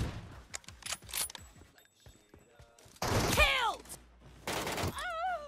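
Gunfire in the mobile battle-royale game PUBG Mobile comes in scattered short bursts and thuds, with a player's voice and game sounds breaking in between.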